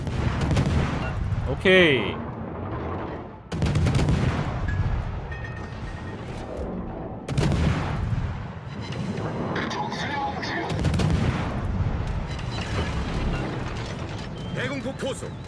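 Anti-aircraft guns firing in the World of Warships naval game aboard an American CL-154 Jinan light cruiser: repeated loud bursts of rapid gunfire and booming blasts, mixed with spoken in-game voice callouts throughout.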